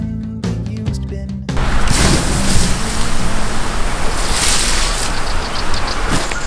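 A river runs beside a campsite on the Bridle Track, giving a steady, full rush of flowing water with wind noise. It begins with a short burst of music before the continuous water sound takes over close to the microphone.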